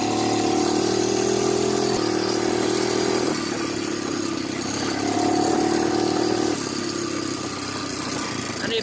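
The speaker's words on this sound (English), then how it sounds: "You can hear it backfiring, that carburetor's not giving it enough gas." Honda 300EX ATV engine running in second gear with a lean carburetor, a steady mid-pitched motor drone that rises and dips in revs, with uneven pops of backfiring mixed in, close by.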